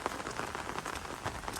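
Heavy rain falls in a Cambodian forest, a dense, even hiss of drops pattering on leaves and ground, fairly faint and steady with no voices.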